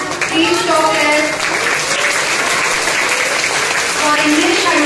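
Children at an annual school prize distribution cheer and clap for classmates winning prizes, a steady crowd roar with scattered shouts and applause running throughout, with children's voices prominent in the noise.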